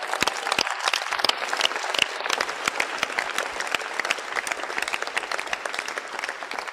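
Audience at a church gathering in Mampong, Ghana breaking into loud, sustained applause, dense clapping that stays strong for several seconds and tapers slightly toward the end, with no voices over it.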